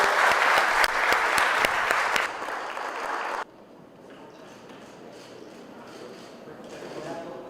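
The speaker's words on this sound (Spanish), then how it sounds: "Un aplauso de reconocimiento y mucho respeto para el inventor del líquido indeleble que ha sido reconocido." Studio applause on a morning TV news program, a few seconds of brisk clapping that thins out, then cuts off abruptly into quieter room sound with voices talking.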